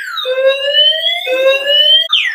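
The anti-theft alarm of a Zelio X Men 2.0 electric scooter blares close by, a loud electronic siren stepping between two rising tones before jumping to a sharper pitch.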